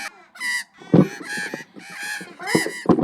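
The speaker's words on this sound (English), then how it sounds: "The birds, What are they doing? they're everywhere." Magpies crowding around, squawking and cawing in harsh, loud bursts close by, several calls overlapping in quick succession.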